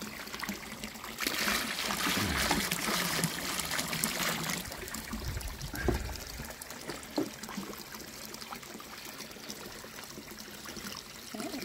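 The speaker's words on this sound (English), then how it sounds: "water's coming back into the pond." Water trickling and splashing back into a milky, algae-green koi pond, a steady close flowing wash with a louder gush early on that settles into a softer continuous dribble.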